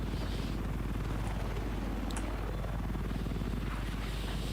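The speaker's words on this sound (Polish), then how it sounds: "goni nas helikopter" An attack helicopter chases the player in Battlefield 4, its rotor a loud, continuous thudding drone mixed with game noise that holds steady throughout, with no talk.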